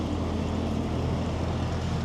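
Trucks pass on a road near Osnabrück, Germany, a loud steady low rumble and broad whoosh of traffic close by, continuous for the whole moment with no voices.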